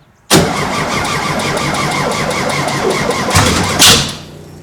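A car engine with new CB Performance square-port cylinder heads cranks and catches abruptly on its first start, then runs at a steady high rev, loud and close, with a brief surge near the end.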